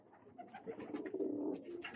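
Teddy breeder pigeons give low, rolling coos in a short run of soft, nearby calls.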